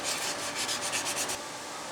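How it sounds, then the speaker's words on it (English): Sandpaper rubbed by hand over an aftermarket exhaust pipe for a Ford 9N tractor, a steady raspy scrubbing in quick repeated strokes for about a second and a half, then a fainter hiss, close and with no talking. "I'm going to go ahead and go over this with some sandpaper real quick, just to try to smooth it out"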